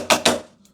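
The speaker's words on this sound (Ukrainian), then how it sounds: "потрібно трохи постукати." Two quick, sharp knocks on a part of an SG316-MAX RC car, close and dry, followed by a faint tap.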